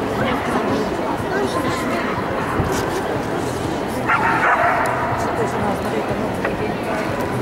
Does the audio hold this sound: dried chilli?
no